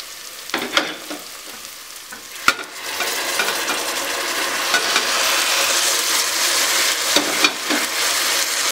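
Onions frying in a pan as tomatoes, coriander leaves and mint leaves are stirred in over a medium flame, giving a steady close sizzle with scraping stir strokes and a few sharp utensil knocks, no talking.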